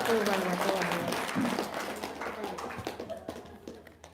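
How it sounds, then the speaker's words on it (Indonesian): Applause from a studio audience at a talk show, a dense patter of clapping that starts loud and gradually thins and fades over a few seconds, with voices mixed in. "Ya, tepuk tangan dong, luar biasa."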